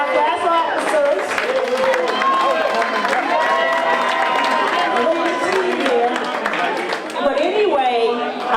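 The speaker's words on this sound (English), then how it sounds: "Give a round of applause for our class officers." A crowd applauds and cheers loudly and steadily, with lively voices and chatter mixed throughout, at a high school class reunion.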